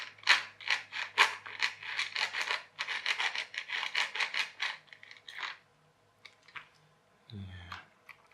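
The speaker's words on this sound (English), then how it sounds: "we got a gearbox that seems to work" A toy RC scooter's small gearbox rattles and whirs in close, repeated bursts of clicky buzzing, then falls quiet before a short thump at the end.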